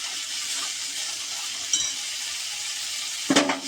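Broccoli kachuri fries in hot oil, a steady close sizzle with a couple of brief clinks and stirring knocks near the middle and end, no talking.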